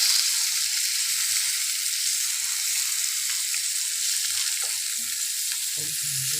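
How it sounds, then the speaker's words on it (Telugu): Fish pieces frying in well-heated oil for a Hyderabadi-style masala fish fry, a loud steady hiss and crackle filling the air throughout, with a few louder pops near the end and no voices. "ఆయిల్ బాగా హీట్ అయిన తర్వాత వేసుకోండి."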